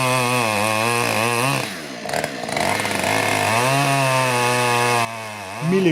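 A chainsaw revving and idling close by, its motor whining up and down in pitch, briefly dropping off before surging again; carried along on an off-road trip with a 1991 Puch (Mercedes-Benz) 300 GD, no talk.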